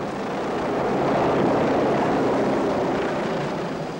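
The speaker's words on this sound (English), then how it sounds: "we have a helicopter launch in your direction" Helicopter rotor and engine noise rises and fades as the aircraft launches from the Royal Navy frigate HMS Achilles, a broad steady roar with no speech.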